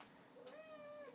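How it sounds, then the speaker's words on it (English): A domestic cat gives a single drawn-out meow close by, rising then holding steady before fading, heard alone over quiet room noise. "That's my cat, who you absolutely must be able to hear now because she's right at my feet."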